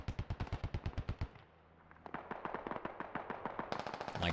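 Gunfire in the military shooter game Squad: a rapid automatic burst of evenly spaced, sharp shots, a brief lull, then another run of closely spaced shots building again, loud and close.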